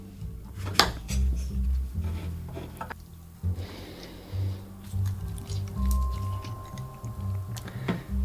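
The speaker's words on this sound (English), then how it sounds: "we're gonna start by squeezing our fresh lemon juice" Fresh lemons are squeezed by hand for a White Lady cocktail, giving wet, squelching presses and juice drips, with a few sharp clicks and knocks of a jar or shaker close by.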